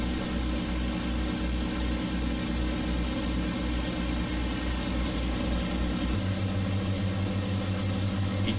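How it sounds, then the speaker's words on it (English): The four Merlin engines of a Lancaster bomber run steadily at close range in a loud, continuous drone with a deep throbbing rumble, and the low pitch shifts partway through. "The four Merlin engines were started up."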